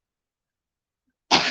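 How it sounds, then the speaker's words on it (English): After near silence, one short, sharp cough breaks out right at the end, close up, during a late-night weed-smoking session. "From coughing."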